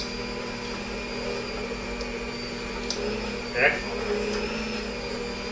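An electric mixer beats chocolate cookie dough in a home kitchen, giving a steady motor whir that runs the whole time, with a brief scraping clatter partway through and a voice speaking over it.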